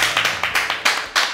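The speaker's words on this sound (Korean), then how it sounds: "일단 박수를 먼저 보내드립니다" A small group claps in a short, uneven run of distinct hand claps, close and fairly loud, after a Korean food cooking contest.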